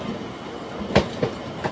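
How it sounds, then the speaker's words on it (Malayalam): ICF-coach passenger train pulling away from Munroe Island toward Ernakulam, wheels clacking over rail joints in three sharp beats above a continuous rolling rumble, fairly close and loud. "എറണാകുളം റെയിൽവേ സ്റ്റേഷനെ ലക്ഷ്യമാക്കിക്കൊണ്ടിതാ പോവുകയാണ്."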